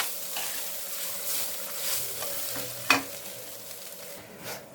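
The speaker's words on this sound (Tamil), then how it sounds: "தேங்காய் சேர்த்துக்கலாம் சேர்த்துட்டு நல்லா வறுத்துக்கலாம்" Black urad dal, chillies and grated coconut roast in a pan, a soft continuous sizzle with gentle stirring scrapes and one sharp clink of a utensil, close by.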